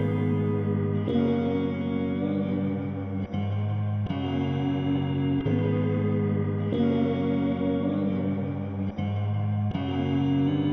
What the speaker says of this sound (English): Anytime I come across a less melodic sample, I will always throw echo on it.